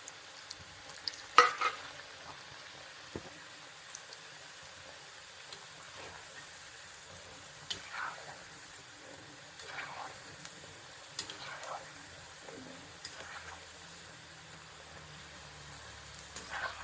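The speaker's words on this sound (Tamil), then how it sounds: "இது ஃப்ரை ஆயிடுச்சு." Sidukku savory dough frying in oil, with a quiet, steady sizzle and occasional clinks of stirring scattered throughout.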